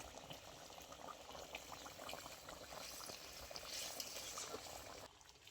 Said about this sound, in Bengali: ঝোল খুব ভালো ফুটে গেছে